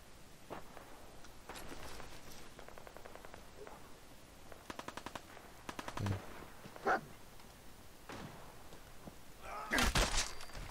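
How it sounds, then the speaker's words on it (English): Gunfire in the video game Fallout 4, scattered bursts of rapid shots and single thuds over several seconds, moderately faint against a busy game soundscape. "Gunfire."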